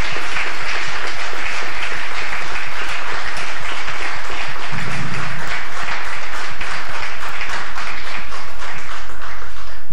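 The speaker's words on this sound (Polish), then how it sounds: "Wielkie brawa dla niego." An audience applauds loudly and steadily to welcome a guest at an event in Wołczyn, a dense, continuous wash of clapping lasting the whole stretch without any voices.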